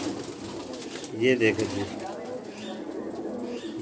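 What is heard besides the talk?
pigeons cooing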